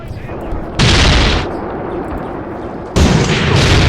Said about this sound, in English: it looks like we do have some mortars firing over there